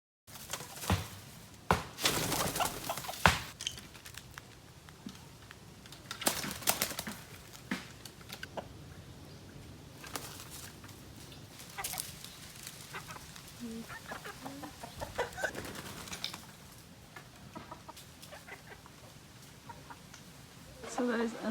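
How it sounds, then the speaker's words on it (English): Chickens and a rooster roosting up in a tree at dusk in rural Thai mountains give scattered soft clucks and calls, faint and somewhat distant, among rustling outdoor noise and occasional bursts of handling sound. "those are the chickens and the rooster up in the tree roosting for the night"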